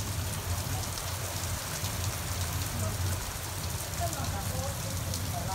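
Steady rain falls continuously in Singapore, a dense even hiss with no pauses, moderately loud and close, with faint background sounds mixed in.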